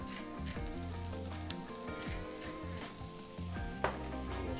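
Onions cook on a flat griddle with a steady sizzle that runs through the whole stretch, mixed with sustained tonal sounds and occasional sharp clinks.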